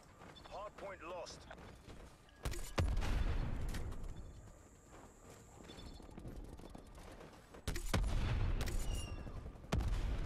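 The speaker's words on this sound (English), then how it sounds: "I just shot a war machine across the map and killed him" A War Machine grenade launcher fires in Black Ops Cold War, its explosive blasts landing in three loud, booming bursts over steady gameplay noise and other gunfire.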